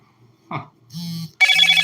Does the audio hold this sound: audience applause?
no